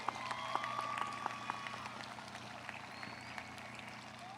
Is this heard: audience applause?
yes